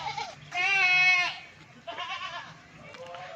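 A Rajanpuri goat, a seven-month-old animal at a farm, gives two drawn-out, wavering bleats and then a shorter third, close and fairly loud.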